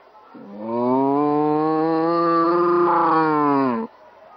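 A human voice imitates a buffalo's bellow: one long, steady, loud lowing call lasting about three seconds, rich and harmonic, then silence.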